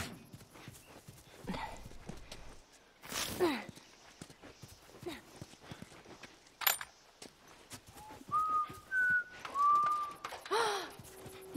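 Ellie from The Last of Us whistles several short, clear notes in a quick run near the end, preceded by scattered footsteps and movement.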